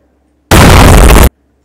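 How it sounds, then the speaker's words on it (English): A loud, sudden burst from a helicopter explosion effect rendered in Unreal Engine 5.4, one dense, broadband blast lasting under a second that cuts off abruptly, with silence before and after. "So I have an explosion in mine."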